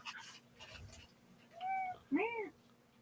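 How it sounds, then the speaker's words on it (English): A cat meows a couple of times, short rising-and-falling cries close by, after some brief faint talk. "So there was the cat going, meow."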